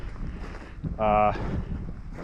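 Steady wind buffets a microphone with a low rumble, and a short harmonic tone rises briefly in the middle.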